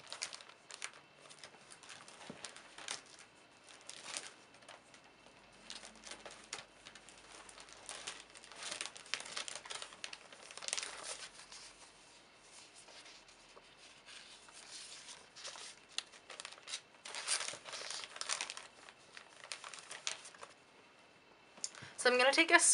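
Sticker sheets for an April planner rustle and crinkle quietly as they are flipped and handled, soft papery shuffling in bursts with a brief louder rustle at the end.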